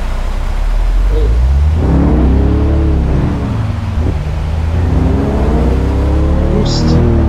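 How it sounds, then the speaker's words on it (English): A supercharged truck engine in American Truck Simulator drones loudly and steadily, its pitch rising and falling as it revs, with a continuous whine over the rumble and someone talking over it. "You can hear the supercharger a bit more in this exhaust setting."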